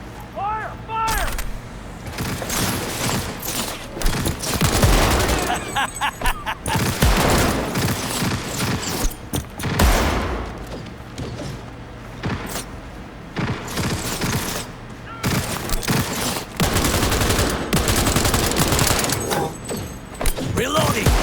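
Heavy cannon and gunfire in Cyberpunk 2077, a dense, continuous barrage of booming shots and rattling bursts through the whole stretch, with shouted voices over the battle.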